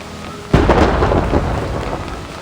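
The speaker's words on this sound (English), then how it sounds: "What kind of storm is this?" A thunderstorm in the video game Reverse 1999 with a sudden loud thunder crack that rolls and rumbles over a steady wash of heavy rain, close and without any voices.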